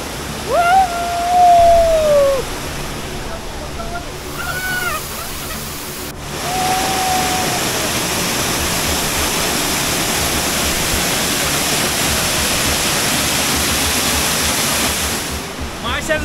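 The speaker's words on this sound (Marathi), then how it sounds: "हे बघा माझ्या मागे तो वॉटरफॉल." At a Malshej Ghat viewpoint, a waterfall roars as a continuous broad rushing wash that grows fuller midway, with a voice speaking briefly over it at first.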